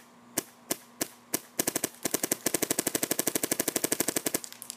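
An Insight NG paintball marker with a soft shot bolt fires on a PSP ramp: four single spaced shots, then a rapid steady string of sharp close pops, no voices.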